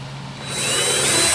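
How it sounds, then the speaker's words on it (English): A power drill bores a hole through a keder track and its slider during a Fast Track rail installation for a Bugwall, its whine rising and steadying as the bit bites in, close and continuous. "Drill a hole through the keder track and the slider"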